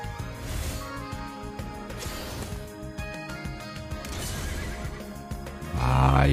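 Horses neigh and whinny within the busy, continuous music and effects of an online slot game, the cries rising over a dense electronic backdrop with a louder burst near the end.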